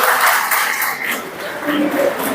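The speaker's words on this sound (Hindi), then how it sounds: "भैया के लिए ताली बजाओ एक बार जोर से।" Audience applause at a spiritual talk: a steady, fairly loud wash of clapping that holds for a couple of seconds, dipping slightly in the middle before swelling again, with faint voices mixed in.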